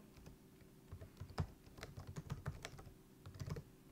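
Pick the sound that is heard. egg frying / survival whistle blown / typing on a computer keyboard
typing on a computer keyboard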